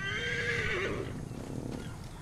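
A horse in the video game Assassin's Creed Origins gives a single clear whinny that rises and then trails off, followed by a faint clip-clop of hooves.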